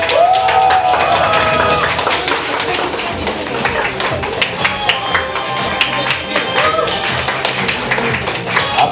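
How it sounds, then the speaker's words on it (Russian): Audience applause at a children's festival award ceremony in a hall, steady clapping and scattered cheers filling the space, with a presenter's voice talking over it. "Аплодисменты, друзья."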